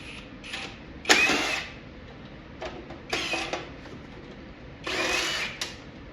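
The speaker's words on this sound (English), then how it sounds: "Get my drill attachment and make it a little bit faster." Short bursts from a power drill with a driver attachment remove screws from an arcade cabinet during a teardown, three separate whirring spurts of a second or so each, separated by quiet gaps with faint handling clicks.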